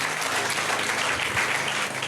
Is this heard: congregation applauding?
yes